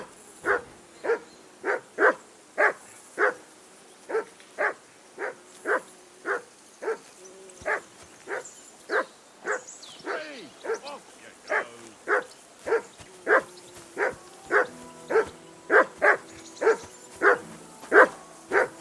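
A dog in Kingdom Come: Deliverance II barks at a riverbank camp, letting out a long, steady run of loud, evenly spaced barks about twice a second. It keeps barking without pause from start to finish.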